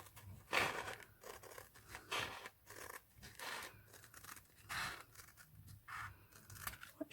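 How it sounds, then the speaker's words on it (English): Scissors cut through glitter faux leather for a hair bow, giving a quiet run of crisp crinkling snips and scrapes in uneven bursts, close up and without speech. "Cut straight down over the purple, and I sort of feed it into the scissors instead of chopping"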